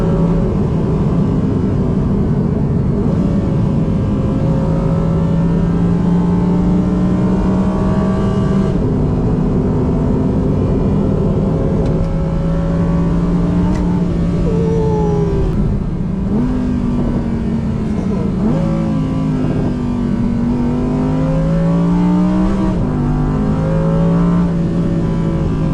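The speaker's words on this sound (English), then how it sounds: "But man, when it does open up, it is a great exhaust." An Audi R8 with an opened-up exhaust revs and accelerates through the gears, loud and close, its rising engine tones repeatedly climbing and dropping at each shift over about 26 seconds with no talking.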